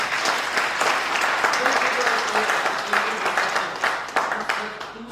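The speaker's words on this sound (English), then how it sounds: "I think we should clap for ourselves" A conference audience at a Tata BlueScope event breaks into sustained applause, dense steady clapping from many hands filling the hall throughout, loud and continuous with murmuring voices underneath.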